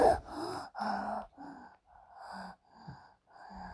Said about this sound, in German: Nicht so laut ins Mikrofon atmen.